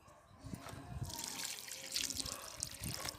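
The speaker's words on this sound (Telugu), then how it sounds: "సో ఇప్పుడైతే మొక్కకి వాటర్ అయితే ఇచ్చేద్దాము" Water is poured onto a potted plant, starting faint and swelling into a close, splashing trickle and drip that keeps running to the end, with no talking.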